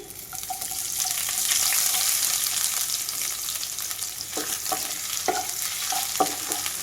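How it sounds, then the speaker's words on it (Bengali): Chopped onions with crushed garlic and dried red chillies fry lightly in a pan for a leafy greens dish, giving a steady close sizzle with stirring scrapes and clinks throughout. "পেঁয়াজটা আমি খুব ভাজা করব না, হালকা করে ভাজা করব।"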